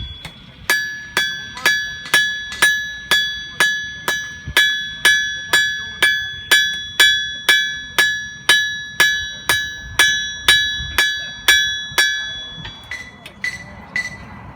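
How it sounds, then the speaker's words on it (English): Steady, evenly spaced ringing hammer blows on a mild steel bar on an anvil, about two per second, bright and close, with a clanging tone that shifts near the end. "I'm going to hammer right down the center of that little dovetail"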